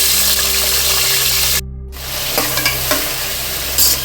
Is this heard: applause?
no